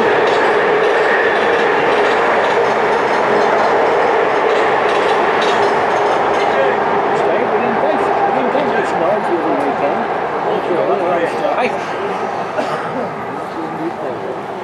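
Train rumbling along the main railway line out of Wigan above a club, a long continuous rolling clatter with rail clicks, loud and close, with a dog barking and people talking underneath.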